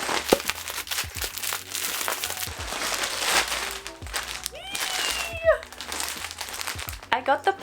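Crinkly plastic packaging from an Oodie parcel rustles and crunches in bursts as it is handled and opened, with a person talking over the crackling and a few sharper tearing sounds.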